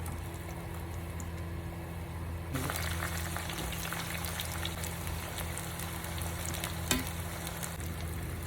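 Brinjal pieces fry in hot oil with a continuous crackling sizzle. A stir partway through briefly brightens the bubbling, which is close and moderately quiet, with no voices.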